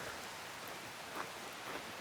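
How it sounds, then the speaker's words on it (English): Light rain patters softly and evenly, a faint steady hiss of drops with a few slightly louder taps. "Now, it's just started to rain."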